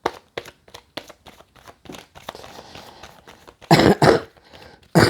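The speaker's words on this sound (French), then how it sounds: "je tousse." A person coughs close to the microphone, a few short dry coughs followed by two louder, harsher bursts.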